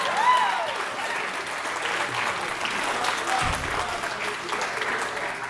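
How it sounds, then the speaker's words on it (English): Applause from an audience at a speech, steady dense clapping throughout with a faint voice briefly audible early on. "Clap, please."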